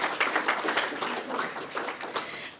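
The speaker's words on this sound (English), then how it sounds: "Let's give them a round of applause." A small audience at a community conversation on senior services gives a short round of applause, light scattered claps rising and fading over a couple of seconds in a room.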